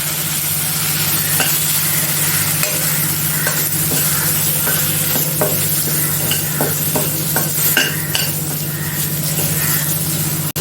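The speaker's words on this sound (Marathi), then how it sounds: "आपला दोन चमचे मालवणी मसाला तो पण मी चांगला परतून घेते" Malvani masala spices sizzle loudly in hot oil, with a continuous frying hiss and occasional sharp crackles and scraping stirs throughout.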